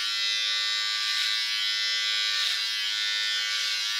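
A Panasonic electric hair clipper buzzes steadily up close while cutting hair, a constant high motor whine with slight wavering as it moves through the hair.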